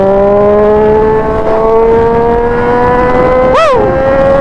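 A motorcycle accelerating into traffic, its engine note rising steadily in pitch as it pulls away, loud and close, with a brief sharp swooping blip as it shifts near the end.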